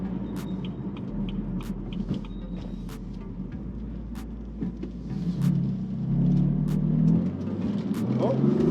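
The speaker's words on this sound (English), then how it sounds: "a second to third gear pull and it was losing traction each time" A BMW M4 with the S55 engine and a plug-and-play stage 1 tune pulling from second into third gear, a low throaty rumble building steadily from inside the car while a person talks over it.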